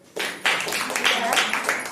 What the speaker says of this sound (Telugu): మళ్ళీ క్లాప్స్ కొట్టండి.